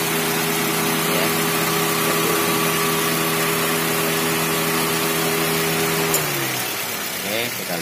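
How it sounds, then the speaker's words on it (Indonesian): A car engine idling steadily with the alternator spinning, a loud even hum that holds for several seconds before dipping and shifting near the end as the AC compressor engages. "ini ya teman-teman, kondisi mesin saat menyala ya"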